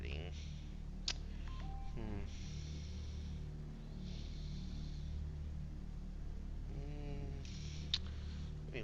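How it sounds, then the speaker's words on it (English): A mobile phone goes off during a Minecraft Project Ozone 2 gaming session, giving two short, faint electronic tone patterns beneath a low background hum. "My phone's going off here."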